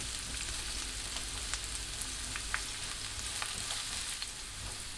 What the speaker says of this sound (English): Please saute the carrots until they start to soften a little.